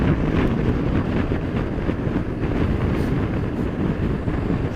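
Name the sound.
strong wind buffeting a motorcycle rider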